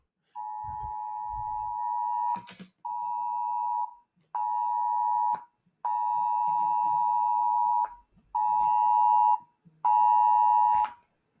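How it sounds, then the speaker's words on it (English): A home alarm system sounds a series of six long, steady electronic beeps of similar pitch separated by short gaps, with faint background noises between them. "Alarm system."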